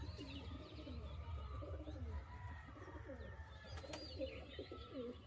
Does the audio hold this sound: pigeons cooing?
yes